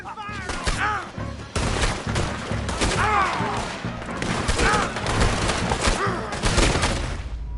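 Rapid gunfire and overlapping shots from a shootout in Red Dead Redemption 2, loud and continuous across the whole stretch, with shouting voices mixed in under the shooting.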